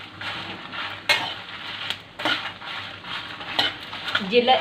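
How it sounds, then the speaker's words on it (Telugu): Spoon stirring two spoonfuls of cumin seeds as they roast in a pan for a spicy podi, giving steady scraping and light crackling sizzle with a few sharper clinks of utensil against metal. "ఇప్పుడు జీలకర్ర వేసుకుంటున్నామండి. 2 స్పూన్స్ జీలకర్ర వేసుకున్నాం. మంచిగా బాగా తిప్పాలండి."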